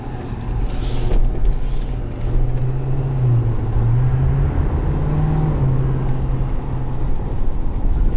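A 2021 Ford F-350 Limited pickup with the 6.7L diesel engine accelerates, its steady low engine drone rising and falling in pitch over about eight seconds under a constant loud road and cabin rumble, with no talking.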